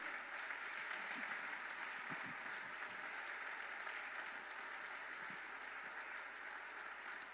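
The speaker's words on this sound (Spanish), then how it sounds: "Si lo crees, dale un fuerte aplauso al Señor." A church congregation applauding, dense sustained clapping from a large crowd that fills the room evenly from start to finish.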